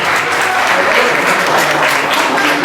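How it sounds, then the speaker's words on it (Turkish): Loud, dense applause from children and adults at a fourth-birthday party after a quiz-style party game ends, continuous and close for the whole stretch. "Kocaman alkış istiyorum sizlerden."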